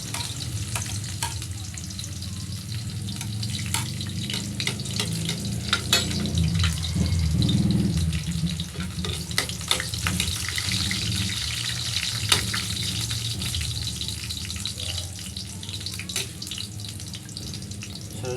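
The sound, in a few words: garlic frying in hot cooking oil in a pan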